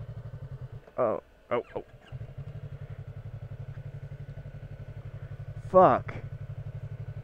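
A Yamaha R3 sport bike engine idling steadily on an off-road nature trail, close and moderately loud with a pulsing rhythm, briefly cut by short bursts of a rider's voice.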